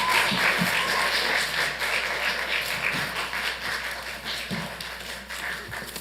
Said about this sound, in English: That did deserve a round of applause for all the confusion